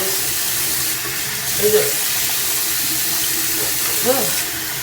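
Tap water runs steadily into a bathroom sink while a face is rinsed, a continuous broadband wash with a couple of brief splashes, no talk over it.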